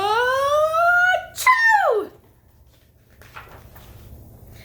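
A voice imitates a sneeze, a drawn-out rising 'ah' breaking into a sharp falling 'choo', loud and close, followed by quiet room tone.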